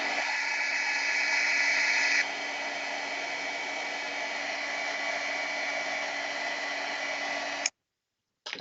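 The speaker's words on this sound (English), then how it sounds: "Then just get your heat tool." Hot air rushes steadily from an embossing heat tool for about eight seconds, loud and close with a slight drop in pitch partway through, then it shuts off abruptly.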